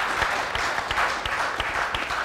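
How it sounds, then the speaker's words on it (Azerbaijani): A television studio audience applauds continuously, a dense wash of claps with a few distinct near hand slaps standing out over the roar. "Onlara bir alqış qoy."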